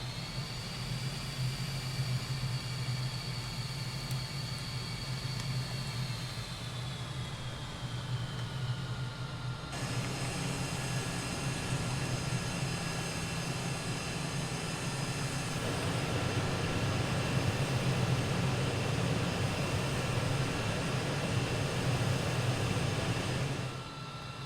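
An L-39 Albatros jet taxiing in Microsoft Flight Simulator 2020 gives a continuous engine roar with a high whine that slides lower partway through, then holds a steady, slightly louder rumble.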